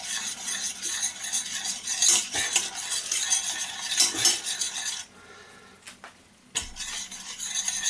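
Utensil scraping and clinking against a pan as sesame seed beef is stirred into melting sauce, a steady busy scraping with a brief quieter gap before stirring resumes.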